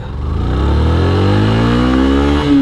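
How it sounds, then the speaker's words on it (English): A Yamaha FZS V3 motorcycle engine revs loud and close with rising and falling harmonic pitch as the rider downshifts without a slipper clutch, the rear briefly back-torquing. "because of downshifting and not a slipper clutch, it back torqued a little bit"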